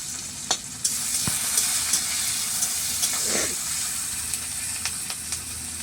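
Chopped onion fries in hot oil with a pinch of salt in a pan during Indian village cooking, a steady close sizzle broken by occasional scraping stirs and light clicks of the spoon.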